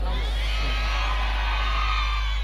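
A church congregation shouting and cheering amen together, a dense sustained roar of many voices with whoops and yells, loud and continuous over a deep low hum.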